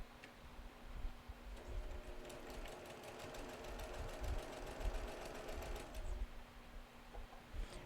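A sewing machine stitches in a fast, steady mechanical rattle that runs for several seconds close by, then stops, with no talking.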